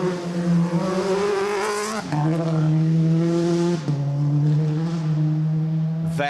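Rally car driven by Molly Taylor in a stage of the 2024 Gippsland Rally, engine note swelling loud and close as it works through a tight hairpin, dropping pitch on two sharp gear changes then holding a steady drone.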